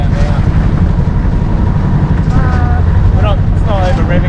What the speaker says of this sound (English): I've never revved the engine this high